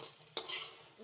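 Food frying in a pan, with a sharp clatter of utensil on metal followed by a steady hiss that fades to a quieter sizzle, heard close and without talk.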